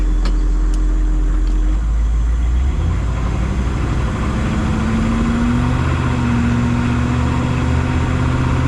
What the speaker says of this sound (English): I'm driving a Humvee.